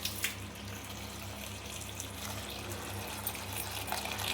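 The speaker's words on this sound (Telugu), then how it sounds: "వాటర్ వేసి మంచిగా కడిగేసుకుందాం" Tap water runs steadily into a sink to rinse sprouted seeds in a home kitchen, a continuous close splashing flow with no talking.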